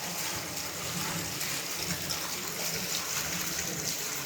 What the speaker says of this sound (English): And this is where the hot water spring comes.